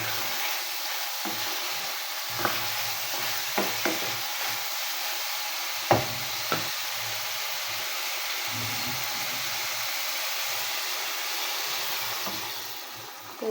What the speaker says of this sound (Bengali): আমার সবজি কষানো প্রায় শেষ এখন আমি তরকারিতে ঝোল দিয়ে দেবো